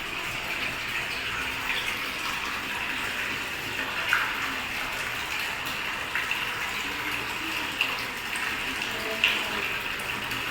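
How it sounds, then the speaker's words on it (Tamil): Water gushes steadily from a borewell pipe at a housing site in Tiruppur, a loud, continuous rushing splash that holds an even level with small surges and no voices. "போரில் தண்ணி வந்துட்டு இருக்குது"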